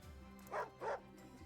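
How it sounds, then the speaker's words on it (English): A dog in the Wargroove video game gives two quick, close barks over quiet background music. "That bleeding dog."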